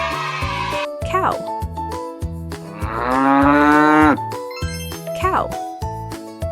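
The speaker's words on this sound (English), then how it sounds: "Cow." A cow moos loudly and close by over a bright musical backing with jingly tinkles, part of a children's animal-names lesson.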